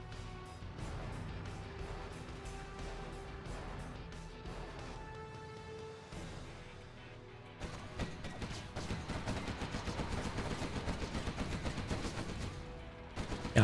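Gatling cannon and quad cannon units trade continuous rapid automatic fire in the real-time strategy game Generals Zero Hour, a dense rattling barrage that intensifies midway with overlapping bursts.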